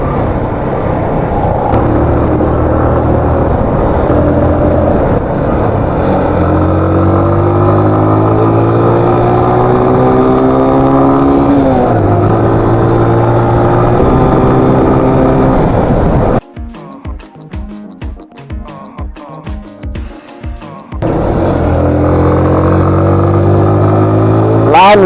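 Motorcycle setting off on a Dubai road, its engine revving through rising gear pulls, dropping to a choppy idle-like pulse midway before the loud engine roar returns.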